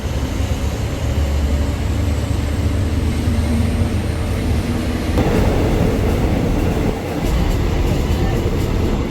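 Continuous rumbling from inside a carriage of a train travelling from Bangkok to Nakhon Pathom, Thailand, steady low roar with occasional rattles and clacks of the wheels.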